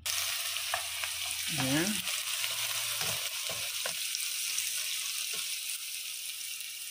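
Onion and squid sautéing in a pan for adobong pusit, a steady hissing sizzle throughout with occasional stirring knocks and a brief spoken word.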